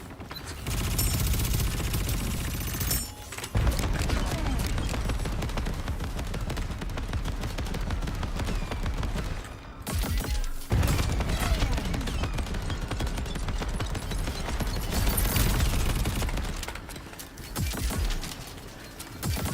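Sustained heavy gunfire and overlapping bursts from a Warzone video game firefight, loud and nearly continuous for most of the clip with brief lulls around the three- and ten-second marks.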